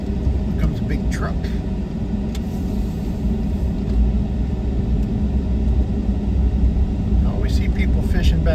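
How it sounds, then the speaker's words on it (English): A big truck passing on Harbor Island Road near Port Aransas, Texas, heard from inside a moving car with the air conditioning running, as a steady, heavy low rumble that continues throughout. "Here comes a big truck"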